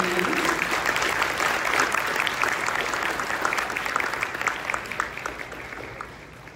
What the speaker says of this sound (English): can we get one more round of applause